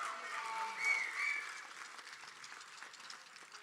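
Faint, somewhat distant applause for a signing day group, thin scattered clapping from a small audience with a brief raised voice or cheer early on, fading lower through the rest.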